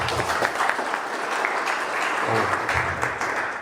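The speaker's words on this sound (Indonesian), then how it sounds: "Aplaus untuk mereka" Crowd applause for a team at a large Indonesian business-plan event, a dense, steady clapping that holds loud and even for several seconds with scattered cheers mixed in.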